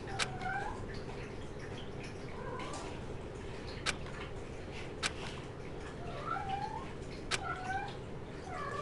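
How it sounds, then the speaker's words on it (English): A cat meows repeatedly in short, whiny calls against a steady background hum, with a few sharp clicks scattered between the cries. "She's a very noisy kitty."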